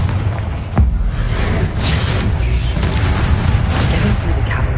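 The Confringo explosion spell goes off in the Hogwarts Legacy video game, giving a loud booming blast with crackling bursts over a rumbling cavern ambience.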